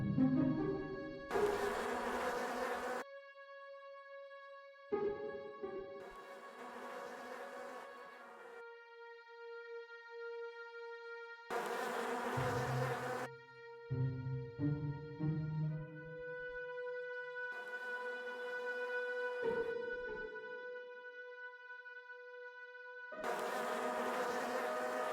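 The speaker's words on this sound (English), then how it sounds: "Yeah, I'm back at where the bees are." Bees buzz in the Miss Clue Christmas at Donner's Pass computer game, coming in repeated loud bursts that alternate with a steady held tone, with no voices.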